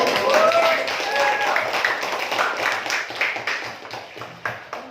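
A classroom group claps together, the applause starting strong and gradually thinning into scattered claps, with voices mixed in underneath.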